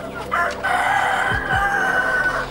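A KUB chicken rooster on a poultry farm lets out one loud, close crow that fills most of the moment, with brief clucking from hens before it.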